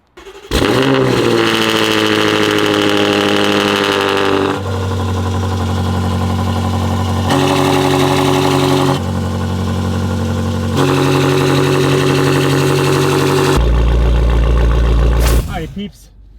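A BMW M5 with a full titanium exhaust and downpipes idles close by, a loud, deep, steady rumble with the pitch shifting in blocks, ending in a brief low blip before cutting off.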